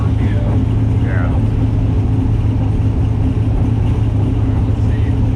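A boosted Nissan engine roars continuously and loud at close range, a dense steady drone with no clear breaks, with faint voices barely audible beneath it.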